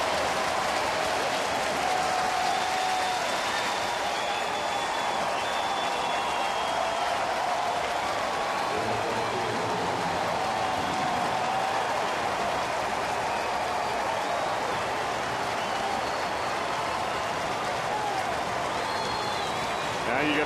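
Dense, steady roar of a baseball stadium crowd at a Cardinals–Reds game in Cincinnati, cheering and applauding continuously with the final out at hand, loud and unbroken, with a broadcaster's voice faintly under it.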